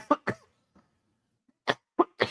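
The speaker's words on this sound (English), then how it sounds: "See, suddenly I'll just cough." A few short coughs in quick pairs, close and fairly quiet, separated by near silence.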